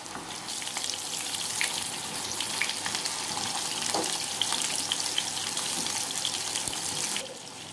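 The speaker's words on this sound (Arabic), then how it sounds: "هنقلبها لحد ما تتشوح كلها كويس من كل الجوانب" Chicken kofta sizzles steadily in a hot pan while being sautéed and turned, a dense even crackle with scattered small pops and scraping, no voices.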